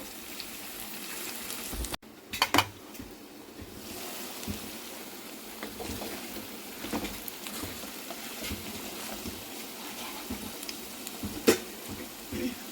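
Curry leaves and green chilies sizzle in chicken gravy in a pan, a steady close hiss with a few sharp crackles and spits early on and scattered pops after.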